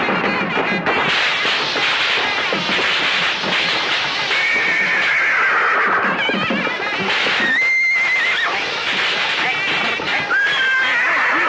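A horse whinnies loudly and repeatedly in a rural village setting, the long shrill neighs rising and falling over a busy, noisy background.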